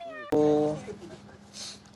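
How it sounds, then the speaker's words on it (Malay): A cat meowing close by, one loud drawn-out meow starting abruptly and fading, followed by a fainter sound and soft background noise. "Comel kucing tersebut."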